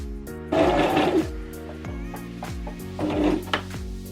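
Brother LS14 sewing machine stitching fabric, its close mechanical whir running in two short bursts with a quieter rhythmic ticking between them, no talk.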